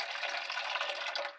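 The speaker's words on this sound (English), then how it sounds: "get rid of this water." Hot water poured off from a cooking pot on a stovetop, the lid held slightly ajar to drain it, a steady close rushing splash lasting about a second and a half, with no talking.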